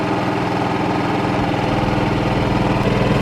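A Cummins Onan QG2500i inverter RV generator runs steadily under about 1350 watts of space-heater load, with a loud, close, even engine drone and a slight rise in revs.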